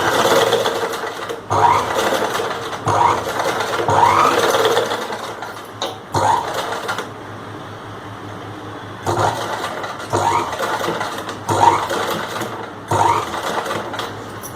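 A sewing machine stitches along the front neck edge of a chudidar, running in loud, close bursts of steady whirring broken by short pauses, with no talk over it.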